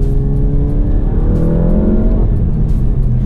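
A Volkswagen MK7 GTI with an APR Stage 2 tune revs loudly during a heel-toe downshift while being driven hard on wet roads, its engine pitch rising and falling close by.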